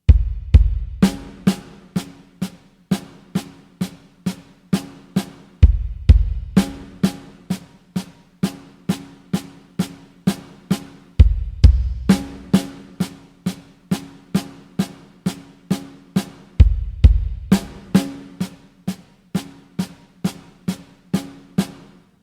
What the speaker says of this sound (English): the fill itself, which is hopefully coming up on your screen now, you'll see starts with a double kick